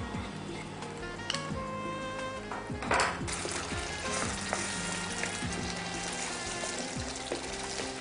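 Cream mixture frying in a pan in a Punjabi dhaba restaurant kitchen, a continuous moderate sizzle with occasional spoon scrapes and clinks against the pan, close up and without talk.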